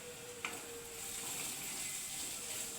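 Garam masala and pepper stirred into a hot frying pan for chicken cutlet filling, a soft steady sizzle under a faint scrape of the spoon near the start, quiet and close with no talking.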